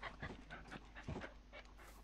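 Panting from a dog in a video game, short rapid breaths repeating in quick bursts, close and moderately loud with a faint whimpering edge.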